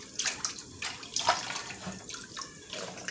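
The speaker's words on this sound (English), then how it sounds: "We're gonna let the water continue to flow while we're cleaning them" Lukewarm tap water runs steadily into a sink while pork neckbones are rinsed, a close, splashing stream with small surges as the flow is broken by handling.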